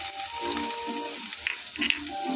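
Garlic crackles in hot oil in a pan for pork steak, a steady close sizzle with a few brighter pops and spatters toward the end.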